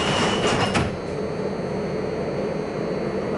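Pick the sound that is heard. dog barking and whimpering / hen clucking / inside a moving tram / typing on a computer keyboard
inside a moving tram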